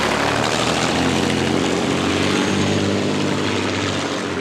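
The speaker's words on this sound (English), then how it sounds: "The Rolls-Royce Merlin's running." A Rolls-Royce Merlin engine in a racing boat at the Eppalock Cup on Lake Eppalock runs as a loud, dense, unbroken roar that stays close and powerful throughout.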